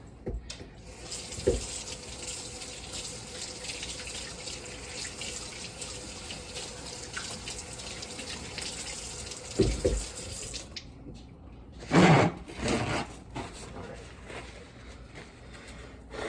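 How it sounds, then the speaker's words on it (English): Tap water running steadily in a kitchen sink during handwashing, a continuous hiss with louder splashing bursts near the end. "And then obviously wash your hands."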